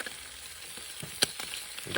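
Bacon frying in a Trangia 25 camping pan gives a steady close sizzle, with sharp crackles and pops scattered through it.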